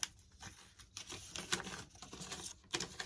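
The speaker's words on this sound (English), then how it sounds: "I get the paper unfolded here." A paper instruction sheet is unfolded up close, giving quiet crinkles and sharp rustling snaps in irregular bursts.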